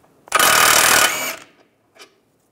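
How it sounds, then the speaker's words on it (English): A socket ratchet spins out the lower sway bar link bolt on a 1998-2010 Volkswagen Beetle, giving one close burst of rapid clicking about a second long, then a faint tick. "We're going to take the bottom bolt out for the sway bar link using a"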